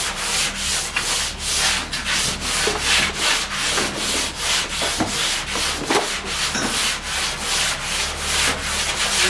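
A plane being rubbed over roof filler to smooth it, making a continuous rhythmic rasping scrape of repeated strokes, close and steady.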